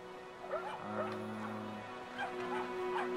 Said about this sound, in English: And there's a dog.